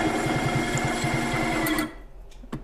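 Boring machine cutter spinning at about 600 RPM gives a steady whirring, rhythmic chatter close by, then winds down abruptly near the end, leaving a faint hum and a brief knock.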